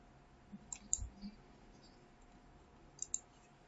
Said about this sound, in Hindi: तो यहाँ पे हम क्लिक करेंगे प्रिंट ऑप्शन पे